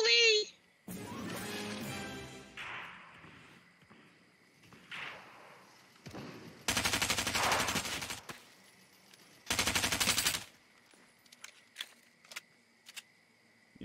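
SMG gunfire in Fortnite Chapter 3 Season 1 rips out in two long, loud automatic bursts. Shorter game noises and scattered single cracks surround them.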